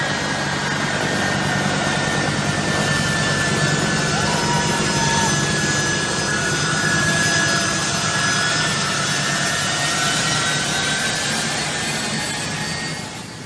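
Jet engines of an evacuation airplane pulling away on an airfield, a loud, steady roar with a whining tone running unbroken throughout, with no voices.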